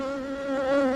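Calm honey bees at an open hive during a nectar dearth give a close, continuous droning hum with a steady pitch throughout.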